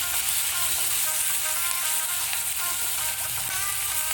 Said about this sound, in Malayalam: നന്നായിട്ട് ഹൈ ഫ്ലെയിമിലിട്ട് തന്നെ ഇത് മൂപ്പിച്ചെടുക്കണം.